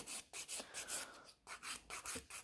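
Rhythmic rasping strokes of a nail file working over an acrylic nail that will be covered with builder gel, close and fairly loud, repeated in quick regular bursts with brief pauses between them.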